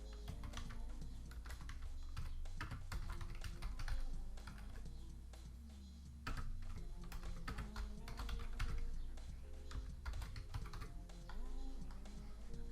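Steady computer keyboard typing while a template description is entered in a photo booth software setup, continuous clicking keystrokes close up throughout with no talking.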